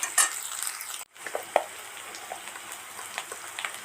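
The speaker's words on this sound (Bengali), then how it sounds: "পেঁয়াজ আর আলু একসাথে ভাজা ভাজা করে নেব" Onions and potatoes fry in hot oil with a soft, steady sizzle, broken by occasional light clinks of a stirring spoon against the pan.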